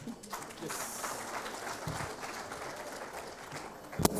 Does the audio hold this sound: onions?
no